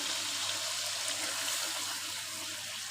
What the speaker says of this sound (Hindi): अब मैं इसमें 1 गिलास पानी का ऐड कर देती हूँ।